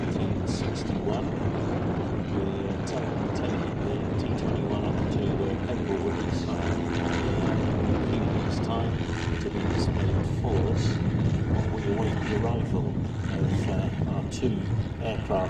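Vintage aircraft engine droning steadily and loudly as it takes off at the Shuttleworth vintage airshow, a continuous broad roar with no pauses throughout.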